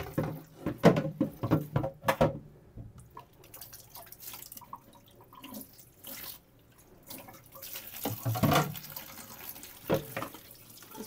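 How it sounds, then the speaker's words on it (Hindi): Raw chicken and liver are rinsed under a running kitchen tap, with water splashing and dripping in the sink in uneven bursts, close and fairly quiet, with no speech. "सबसे पहले तो मैं इस चिकन को धो लेती हूँ।"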